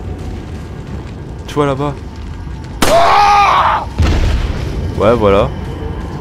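In the Resident Evil 4 video game, a small pistol fires two loud, sharp shots a little over a second apart. Someone talks before and after the shots.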